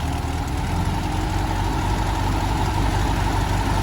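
A VW engine fitted with a restored 1931 Schebler carburetor idles steadily throughout, a low continuous rumble with a faint uneven lope, close by and fairly loud.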